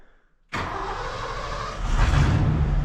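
A 1989 Ford F-150 engine cranks briefly and catches, bursting into a loud, close idle that swells a little louder as it settles into a rough steady rumble, with no talking.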